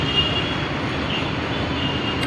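A Mumbai Aqua Line underground metro train running through its tunnel gives a steady, broadband rumble and rush that stays even throughout, with no voices.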